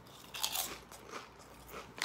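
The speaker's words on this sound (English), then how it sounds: "Nice, crunchy, regular-ass tasting potato chip." A Lorenz paprika potato chip from Germany crunches in several quick, crisp bites, close and quiet, with no talking.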